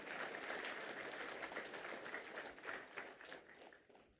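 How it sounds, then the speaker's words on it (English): Attendees at an accessibility event give themselves a round of applause, a soft, steady patter of many hands that carries on for several seconds before thinning out at the end. "give yourself a round of applause"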